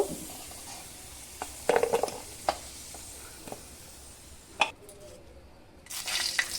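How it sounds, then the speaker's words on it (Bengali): Potato pieces frying in oil with turmeric, giving a soft steady sizzle broken by a few sharp clatters of a utensil against the pan, then a louder burst of bubbling near the end. "আলু কটাও সুন্দর করে এখানে আমি ভেজে নিয়েছি এখন তুলে নেব"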